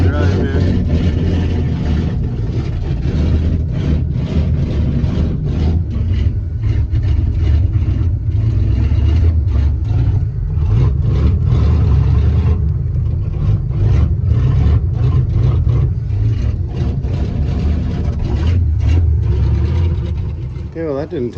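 A car engine running at a steady hum while driving, a continuous low drone with slight surges, with people talking over it throughout.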